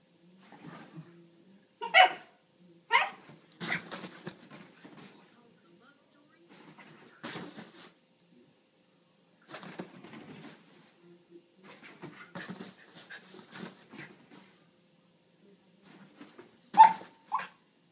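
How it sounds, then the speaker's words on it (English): A playful dog barks in short, sharp bursts with panting and whimpers between them, close by, while a person speaks over the barks. "No barking. No barking. No barking."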